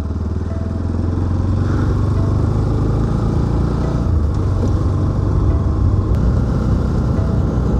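A motorcycle cruises along a normal paved road in Vidarbha, its engine a steady, close, loud drone that holds evenly throughout with no talking.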